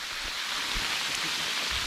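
Hail falling during freezing rain at a hammock campsite in the Cranberry Wilderness, a dense, even hiss of pattering ice and rain with no voices.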